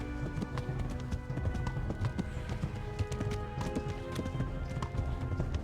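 A horse gallops in the medieval video game Kingdom Come: Deliverance. Its hooves clip-clop in a fast, steady rhythm that runs without a break, close and clear, with no talking.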